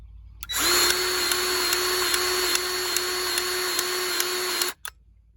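Powered grease gun pumping counted squirts into a grease fitting on equipment, a steady whirring motor drone with a faint regular ticking count running for about four seconds before cutting off.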